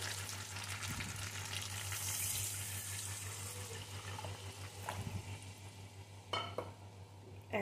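Coconut milk poured into sizzling, fried spices in a pan while cooking potol dorma, a stuffed pointed gourd dish with prawn filling. A steady close sizzle with stirring and liquid pouring sounds, and a few clinks near the end, with no talking.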